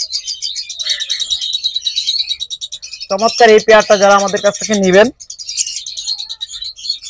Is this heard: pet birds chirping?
yes